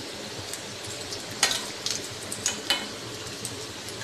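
Semolina sweets (rasbara) frying in oil over low to medium heat, a soft steady sizzle broken by a few sharp clinks and light stirring taps.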